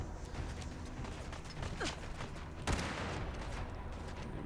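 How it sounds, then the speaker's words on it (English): A Trail Carbine rifle reloaded in Fallout 4, with a quiet series of mechanical clicks, creaks and a sharp metallic clack under a steady low background. "Let me just reload this thing real quick."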